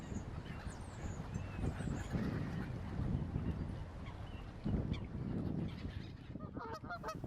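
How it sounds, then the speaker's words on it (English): Egyptian geese in a London park honk in a few harsh calls over a steady outdoor background rumble, moderately close but not loud. "There's another family of Egyptian geese."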